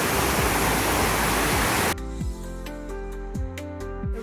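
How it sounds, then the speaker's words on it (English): Waterfall at Nanzoin Temple in Fukuoka, a dense roaring rush of falling water that cuts off abruptly partway, followed by quieter tonal sounds with repeated clicks. "It's a pretty waterfall. Look how pretty it is."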